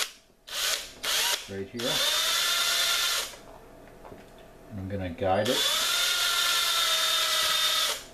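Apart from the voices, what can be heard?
step drill drilling into antler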